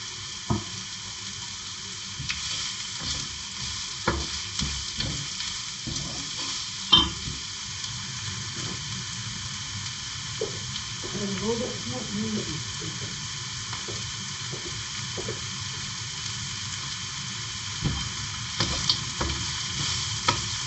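Onions frying in oil for a dry chicken curry, a constant soft sizzle broken by frequent scraping and tapping stirs of a utensil against the pan.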